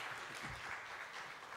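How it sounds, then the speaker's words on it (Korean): Congregation clapping at a Korean church children's ministry teachers' revival meeting, a steady, even wash of applause throughout, moderately distant and without speech. "받으실 때 큰 박수 부탁드리겠습니다"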